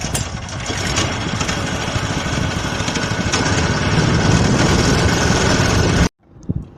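A small fishing boat engine converted to run on gas, idling with a loud, steady, buzzy drone for about six seconds, then it cuts off abruptly and a few faint knocks follow.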